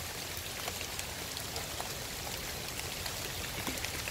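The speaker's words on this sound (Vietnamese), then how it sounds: "Mưa lớn dữ lắm rồi nha." Heavy rain pours down steadily, a dense continuous hiss of drops beating on surfaces close by, unbroken and even in loudness with no voices over it.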